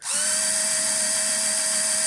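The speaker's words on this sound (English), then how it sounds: "Let's drill these just down into this bit of decking timber." A power drill bores into decking timber with a steady, high continuous whine that starts abruptly and holds at an even pitch, close and loud.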